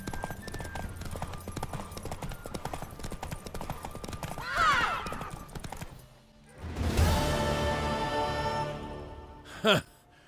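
Rapid hoofbeats clatter in a quick galloping rhythm in The Witcher III, broken by a horse's whinny and a louder rush before a final sharp snort.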